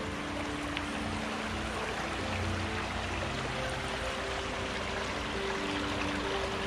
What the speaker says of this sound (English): This is some nice flowing water.